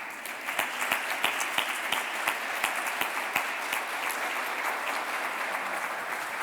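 Strong applause from a full conference room at a European heritage policy summit, a steady dense wash of clapping with sharp individual claps standing out, moderately distant and sustained throughout.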